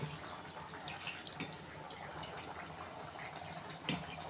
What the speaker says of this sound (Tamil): இப்போது அந்த குழம்பு நல்லா கொதிச்சு வந்துடுச்சு 5 நிமிஷத்தில்.